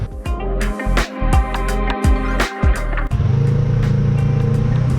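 A Dodge Scat Pack hot rod idles nearby with a loud, lumpy rumbling engine, uneven throttle blips and pulsing exhaust, then settles into a steady deep drone.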